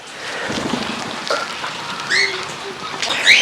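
Steady rain falls outdoors by a bird enclosure, a constant close wash of patter with a few scattered bird chirps rising over it near the end.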